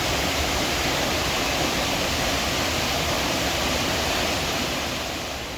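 Rushing river water in St Ann, Jamaica, a loud dense roar of broadband noise that holds steady and close before easing slightly at the end.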